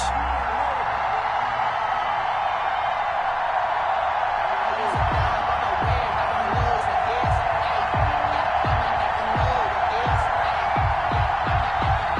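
A stadium crowd in a football video game, Washington at Cleveland before kickoff against Baltimore, roars in a steady loud wash under commentary, with sharp claps and thumps popping through the din.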